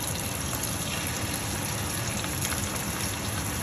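Shrimp laid into a hot sauté pan sear with a steady, dense sizzle and crackle that runs evenly and loud throughout, with no talking.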